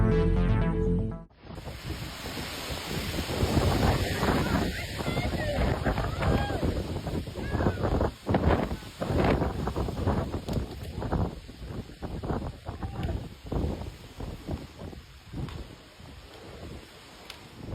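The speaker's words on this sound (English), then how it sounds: "The showdown of the year, wind versus trees." Strong wind gusting through trees in nature, a loud, broad roaring rush with buffeting and rustling surges that swell and ease over many seconds, close to the microphone and heavy with wind buffeting.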